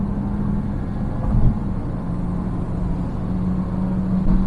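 Peugeot 408 Allure engine during a kickdown downshift to fourth gear at around 135, a steady in-cabin drone with a slight surge, no talk.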